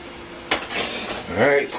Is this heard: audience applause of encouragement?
no